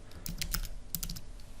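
Fingers tap a computer keyboard to enter a command-line instruction, two quick bursts of close, crisp keystrokes separated by a short pause, with no speech.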